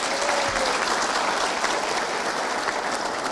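An audience at an evening book launch and exhibition applauds in a steady, dense burst of clapping that fills the room, close and loud with no voices.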